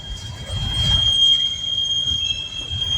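A long coal train passing at Mount Hope, West Virginia, with a sustained high metallic wheel squeal riding over a low rolling rumble that swells and eases slightly, close by and without speech.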